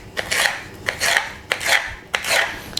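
A knife slices a bell pepper into strips on a board: four crisp, scraping strokes in an even rhythm, close and clear, with short pauses between cuts.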